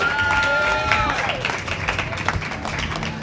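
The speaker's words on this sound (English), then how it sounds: "Give him a round of applause." A live event audience applauds a guest introduced on stage, a steady wash of clapping that carries under a speaking voice.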